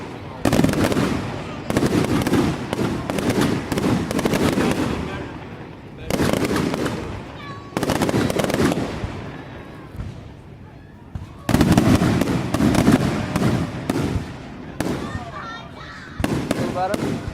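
Fireworks show in Delaware City: dense, loud bursts of booms and crackling in several clusters with brief lulls between, with people talking nearby over the explosions.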